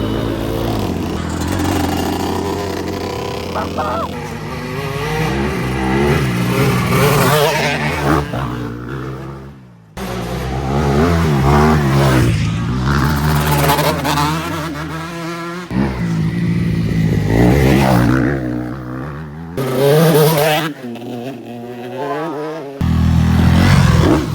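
Yamaha YZ 125 two-stroke dirt bike fitted with a 144 big-bore kit, revving hard and loud up close in repeated rising and falling bursts with brief cutoffs between pulls.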